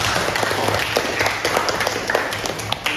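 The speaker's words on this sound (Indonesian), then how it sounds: "beri tepuk tangan untuk kelompok 1." A class of students claps for the first group in a classroom, a dense patter of hand claps running steadily throughout, mixed with a low hum and some voices in the room.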